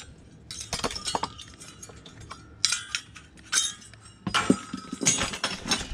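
Aluminium scrap pieces clink and clatter as they are handled, with a series of sharp bright metallic knocks and jangles in irregular bursts separated by quieter pauses, close by.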